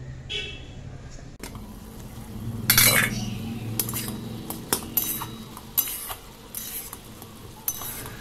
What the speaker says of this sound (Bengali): এবার 5-7 মিনিট পর এর ঢাকনাটা খুলে এটাকে একটু নেড়ে দেবো